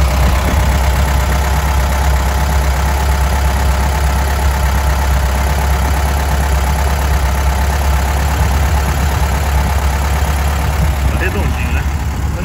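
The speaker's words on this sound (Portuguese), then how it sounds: "Motorzinho redondinho, bateu, pegou" An air-cooled 1300 Volkswagen Fusca (Beetle) engine idles loudly and steadily close by, a constant low drone with a dense ticking texture running through all twelve seconds.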